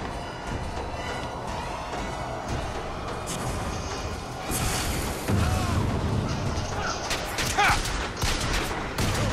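Gunfire in the shooter game BioShock Infinite, a dense steady barrage of shots and booms that grows heavier midway, with sharp bursts near the end.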